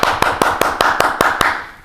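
Handclapping during a church Sunday service: about eight sharp, evenly spaced claps in a steady quick rhythm, close and loud, with no voices.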